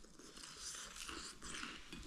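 Crunchy fried chicken eaten by hand is bitten and chewed close up, giving a faint, steady crackling crunch through the short moment.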